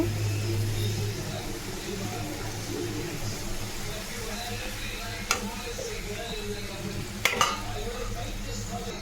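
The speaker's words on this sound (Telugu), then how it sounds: "కొంచెం వెల్లిపాయ కచ్చపచ్చగా దంచిన ముద్ద కూడా వేసేసుకొని కలుపుకోవాలండి" Amla pickle with crushed garlic paste is stirred in a pan on the stove, a soft sizzle and scraping with a couple of sharp clinks while someone talks.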